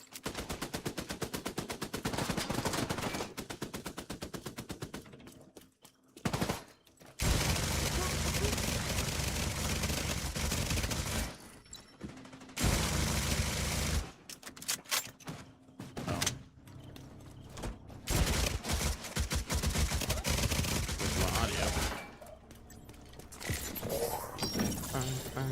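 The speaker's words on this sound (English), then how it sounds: "I think that was another player I was shooting at." Sustained gunfire in the shooter game Tom Clancy's The Division 2, with long dense bursts broken by short pauses and mechanical clatter, loud and close, with occasional talk.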